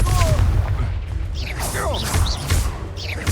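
A Confringo blasting spell going off in Hogwarts Legacy, a heavy booming blast with crackling, whooshing magical effects in a busy, loud battle mix.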